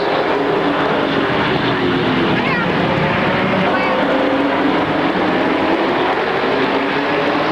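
Stock cars race at Motordrome Speedway in 1994 as the green flag restarts the field, a dense continuous engine roar filling the track under a race announcer's commentary.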